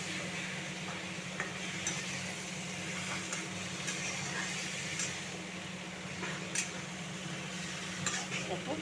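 Curry being stirred and fried in a pan, with a steady sizzle under scraping stirs and occasional clinks of a utensil against the metal, close and continuous with no talk.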